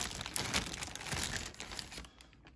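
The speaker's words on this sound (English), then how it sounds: "Let me get this plastic off." Plastic wrapping peeled off a Kotobukiya figure box, a close, busy crinkling and rustling over a couple of seconds that fades out at the end.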